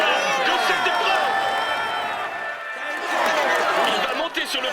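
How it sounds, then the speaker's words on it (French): At a Tour de France podium ceremony, a roadside crowd cheers and shouts for a cyclist, a dense, continuous roar of many voices with whoops and whistles that dips briefly midway before swelling again. "vous pouvez l'applaudir bien fort"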